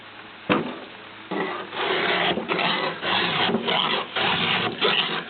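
Chainsaw teeth sharpened with a round file, a series of close, rhythmic metallic rasping strokes, each lasting about half a second with short pauses between, loud and alone.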